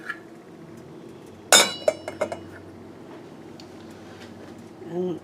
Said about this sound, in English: I'm going to throw the cover on it and keep it partially open